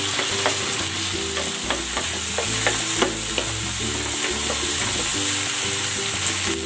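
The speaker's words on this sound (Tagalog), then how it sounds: "Gisa na rin natin tong kamatis." Tomatoes and onion sautéing in a pan give a steady, close sizzle with repeated scraping stirs and small clinks of the utensil throughout.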